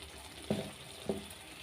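Stirring an okra and tomato curry with chili powder in a pan, two separate scraping clinks of a spoon against the pan about half a second apart, close and fairly quiet with no talk.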